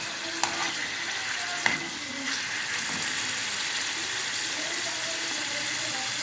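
Chickpea pulao ingredients fry and sizzle in a pan, a steady soft hiss with a couple of sharp clinks as the spoon stirs, close and alone without speech.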